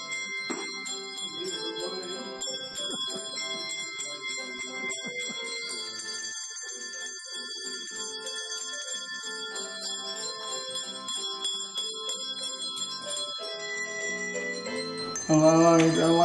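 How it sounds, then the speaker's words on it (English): Color-coded hand bells rung by participants in a music therapy program sound out clear ringing tones one after another, their overlapping sustained notes forming a slow melody, with a louder flurry of bells near the end. "a music therapist flips a series of colorful flashcards that tell each participant when to ring their color-coded bells"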